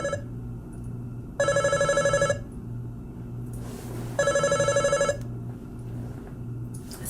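A telephone rings in two bursts of electronic ringing, each about a second long with a steady pulsing tone, separated by a pause over a low background hum.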